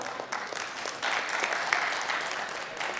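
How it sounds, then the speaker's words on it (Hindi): Steady audience applause fills a festival lamp-lighting ceremony marking the opening of the Dharohar 16 festival, a dense, continuous clatter of many hands that swells slightly partway through and carries on without letup. "कृपया जोरदार तालियां।"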